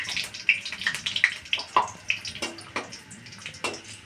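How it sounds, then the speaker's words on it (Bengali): Two dried red chillies fry in hot oil, giving off scattered crackles and sharp little pops over a quiet background, with no talking. "দিয়ে দিলাম দুটো শুকনো মরিচ, একটু ভেজে নিই মরিচটা"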